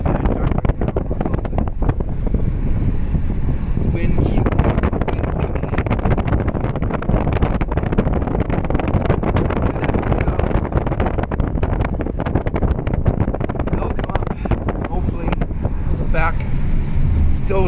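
Car driving at night near Castlegar, a steady loud road and wind rumble filling the whole stretch with occasional bumps and knocks, no clear voices.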